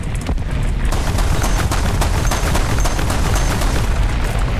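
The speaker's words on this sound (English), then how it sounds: "It's just, got a 20mm cannon." A 20mm anti-aircraft cannon in War Thunder fires a rapid, continuous burst of sharp reports over loud, dense engine and battle rumble.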